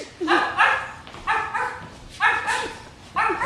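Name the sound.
dog barking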